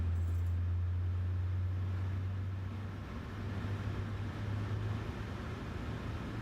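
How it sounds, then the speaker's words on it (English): Airliner engines spooling up in Flight Simulator 2024, a steady low droning hum with a constant rumble that holds evenly throughout. "Engines are coming on board. That's what we're hearing in the background."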